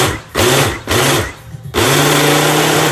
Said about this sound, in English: we are just going to continue to pulse it as we want to mix the ingredients together gently